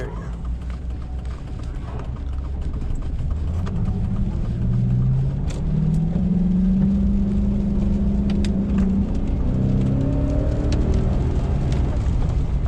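Lowered AWD Cateye car with an MSD two-step, heard from inside as the engine rumbles and then revs up in rising, wavering surges while the tires briefly break traction on a wet road, loud and continuous.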